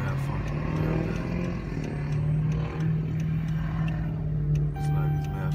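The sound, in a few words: malfunctioning 2012 Dodge Charger engine running rough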